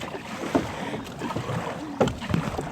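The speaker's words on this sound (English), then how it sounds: "Just paddle on my side of the boat with your paddle." Kayak paddles dip and splash in water a few times over a low wash of wind and gentle lapping, with no voices, off Hilton Head Island.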